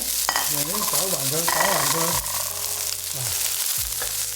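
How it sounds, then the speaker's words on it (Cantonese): Chives stir-frying in a little oil in a wok over medium heat for Chinese scrambled eggs with chives, a steady loud sizzle with the scrape of stirring, while a voice talks over the cooking. "With the heat on medium, we'll cook the chives for about a minute."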